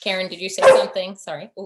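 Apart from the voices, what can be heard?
hungry dog barking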